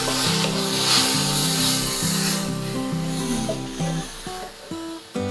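Peppers fry steadily in a hot pan with a soft crackling hiss, while a low humming tone shifts underneath.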